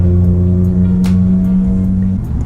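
A Nissan 350Z or Infiniti G35 engine idles loud and close with a buzzy, raspy drone, its steady tone dipping slightly near the end, heard alone.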